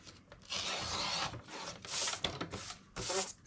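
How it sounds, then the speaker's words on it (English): A paper trimmer slicing card inserts for handmade pocket cards, with several close rasping strokes in quick succession, soft and dry, alone without talk. "So then I'll trim away from the bottom to get my 5 3/4."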